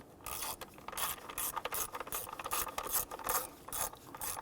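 A ratchet clicks in quick rhythmic strokes while snugging down valve cover bolts on a Nissan Frontier 4.0L V6, each swing a close, bright run of pawl clicks with no talking.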